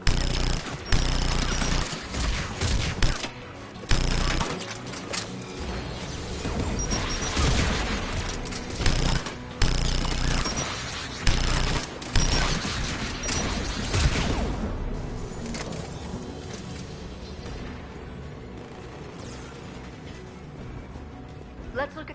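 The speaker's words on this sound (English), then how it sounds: "There, the anti-aircraft guns." Anti-aircraft guns firing in Mass Effect 3, a dense, sustained barrage of rapid booming shots with mechanical clatter and whooshes that gradually eases toward the end.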